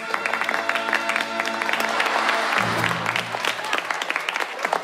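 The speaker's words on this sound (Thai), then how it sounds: "ทุกคนปรบมือค่ะ" A classroom full of students claps steadily and briskly, a dense patter of hands that keeps going throughout.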